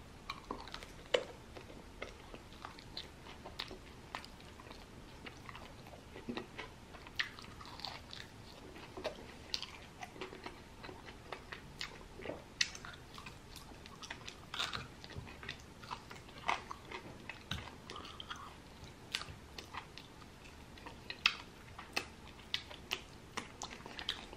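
Chicken wings are bitten and chewed close up in a quiet room, a steady stream of soft crunchy clicks and wet mastication sounds with no talking.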